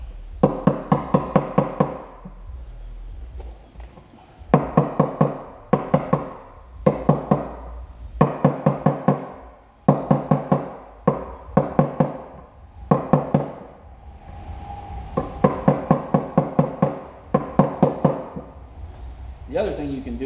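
A hammer taps in the front wheel bearing race of a Yamaha YFZ 450 ATV, sharp metallic knocks in quick rhythmic clusters of four to six strikes with short pauses between, close and loud.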